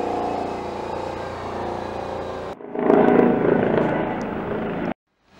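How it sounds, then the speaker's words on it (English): Helicopter flying overhead, a loud continuous throbbing rotor drone that swells midway and then cuts off abruptly. "It's a helicopter"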